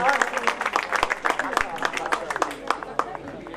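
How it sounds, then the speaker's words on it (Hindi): An audience at a school farewell function claps loudly and steadily, dense rapid clapping filling the hall with a few voices mixed in. "जोरदार ताली बजाएंगे।"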